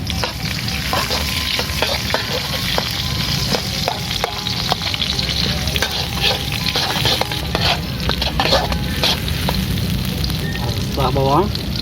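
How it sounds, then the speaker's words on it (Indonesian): Onions stir-frying in a wok for a village-style fried chive dish, with a steady loud sizzle and repeated scraping and clacking of a spatula stirring throughout. "kita mulai tumis ya"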